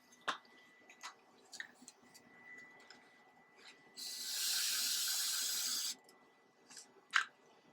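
Pry Oil penetrating oil sprayed from an aerosol can onto a painted surface, a single steady hiss lasting about two seconds, set among quiet clicks and handling noises.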